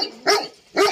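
A St. Bernard puppy gives two sharp, close barks about half a second apart, loud and clear with quiet between them.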